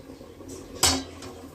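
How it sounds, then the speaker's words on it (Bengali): A metal milk pot set down on a gas stove burner, one short clatter midway, close and moderately loud against quiet kitchen background. "দুধের হাঁড়িটা বসিয়ে দিলাম দুধটা গরম হয়ে যাক"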